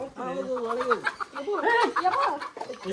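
Roosters and hens on a farm in Mangalore give close, repeated clucks and short crowing calls in quick bursts, with a voice talking faintly in the background.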